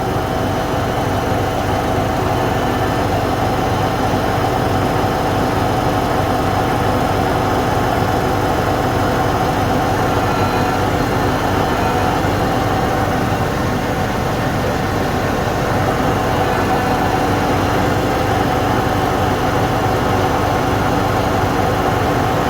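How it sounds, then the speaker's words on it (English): A Fendt 1167 tractor engine idles while still warming up, a steady, close, unbroken mid-to-low rumble with faint vibration and no talk, holding an even level throughout. "we're just still kind of idling the tractor because it's not fully warmed up"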